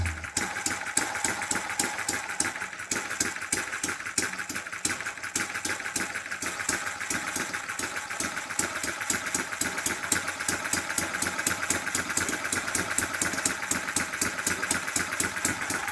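An old stationary farm engine idles with a steady, rapid chugging beat of regular firing pulses, close and loud, running alone throughout with no talk over it.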